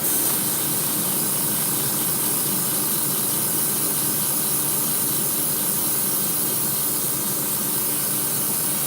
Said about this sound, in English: Spray this through real quick.